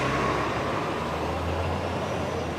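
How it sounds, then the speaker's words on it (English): City buses rumble past on Fifth Avenue in New York outside Trump Tower, a steady, loud broadband roar of heavy diesel traffic with no break and no talking. "We'll wait for these city buses to pass"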